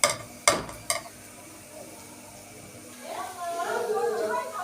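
Rice and orzo pasta sautéing together in a pan, a soft sizzle with stirring, preceded by three sharp clatters of a utensil, with a voice speaking over it.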